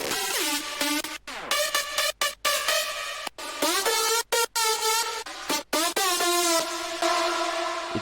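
A big-room EDM lead made from stacked synth layers plays dry, without effects, as bright, buzzy staccato notes cut by short silent gaps, with a few pitch glides, heard alone.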